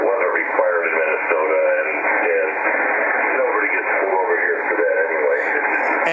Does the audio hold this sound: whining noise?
yes